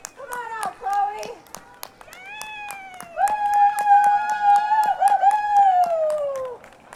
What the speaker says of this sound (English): Give Chloe a round of applause.